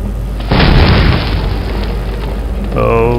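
An explosion in Medal of Honor Allied Assault lands as one loud, deep boom with a rumbling tail that fades over a couple of seconds. A voice starts talking as the blast dies away.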